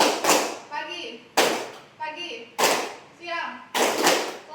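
Children clap their hands in a classroom clapping game, sharp claps landing in a regular rhythm about once a second, mixed with children's voices chanting along.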